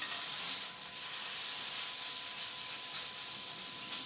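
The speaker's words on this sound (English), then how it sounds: "I have the sizzle of the oil" Oil sizzles steadily and loudly in a hot pan, a continuous crackling hiss with no talking.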